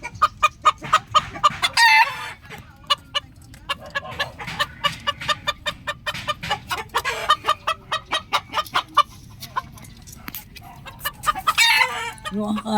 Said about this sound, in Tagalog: Ayan yung ating tandang na pinares natin sa ating labuyo.